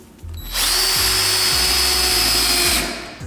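A power drill whines loudly and steadily as it drives a long screw into an old wooden easel being converted into a wall mount, close up and without talk.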